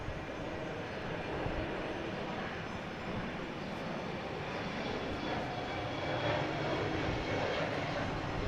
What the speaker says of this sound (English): We got Delta heading to Charlotte,